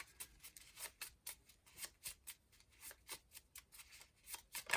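Tarot cards being shuffled in a quick run of crisp riffling bursts, steady and close, with no one talking.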